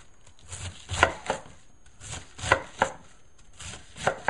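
A knife slicing cabbage thin for homemade sauerkraut, heard as close, crisp chopping strokes that fall in small clusters of two or three cuts, with short pauses between them.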